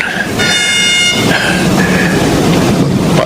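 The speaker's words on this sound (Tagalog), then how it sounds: "parating yung tren." A train nears with a loud horn blast followed by the steady rumble and clatter of rail cars, the noise holding strong throughout.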